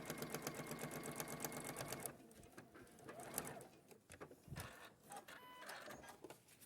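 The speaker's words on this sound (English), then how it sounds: "And then just simply sew along that line." Sewing machine stitching along a binding line, a fast rhythmic mechanical whir and chatter up close, then quieter irregular handling clicks and thumps.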